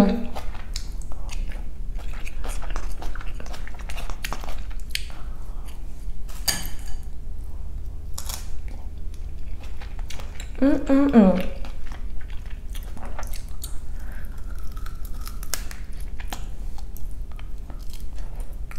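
Crunchy chewing close to the mic, a burst of crisp bites near the middle, with faint talk and room noise around it.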